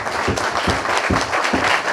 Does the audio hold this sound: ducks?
no